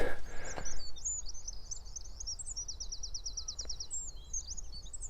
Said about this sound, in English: there's just a lot of wrens singing at the moment